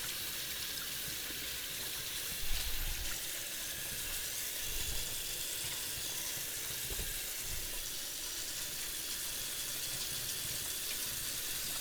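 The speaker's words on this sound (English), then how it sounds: "I'm going to wash my hands." Water runs steadily from a kitchen tap during handwashing, a continuous hiss and splash at moderate volume with no voices.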